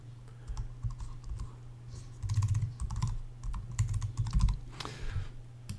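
Typing on a computer keyboard while setting up WordPress, with close, crisp key clicks arriving in irregular bursts over a low steady hum and no talking.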